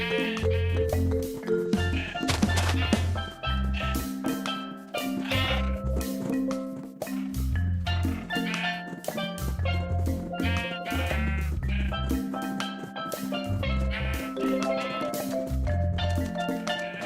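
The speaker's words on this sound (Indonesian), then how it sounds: "Walau agak susah giring domba ini" Sheep in a survival video game bleating repeatedly, many overlapping calls in quick irregular succession, close and fairly loud throughout.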